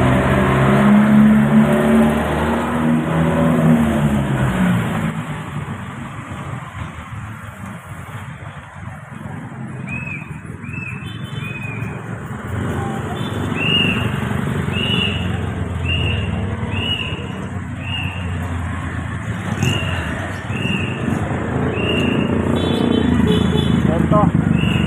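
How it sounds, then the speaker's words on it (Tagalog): Jeepneys and other traffic rumble past on a busy street in Tondo, Manila, a continuous close engine drone with passing vehicles, under walking-tour chatter and repeated high chirps. "Ito yung mga jeep."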